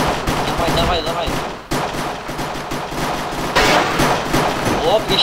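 Rapid gunfire in a Counter-Strike match, with bursts of automatic shots and single cracks following quickly one after another. The shots are loud and dense and run almost the whole way through.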